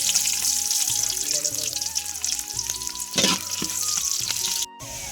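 Chopped onion frying in a pan with garam masala and bay leaf, a continuous loud hiss and crackle under background music, with one brief harsher burst of sizzling.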